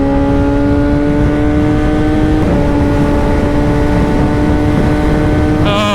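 A 600cc Kawasaki Ninja ZX6R motorcycle engine drones loud and close while riding, holding a steady high-revving tone that dips briefly at a gear change before climbing again, with wind rush throughout.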